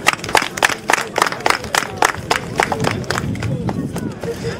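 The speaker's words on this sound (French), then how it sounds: "que je vous demande d'applaudir" An outdoor audience at a solidarity tournament in Allada claps for the tournament's patroness, a brisk, uneven burst of hand claps with talk over it.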